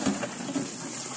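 Strong water flow gushing from a tap, a steady close rushing hiss with a couple of brief splashy spurts near the start.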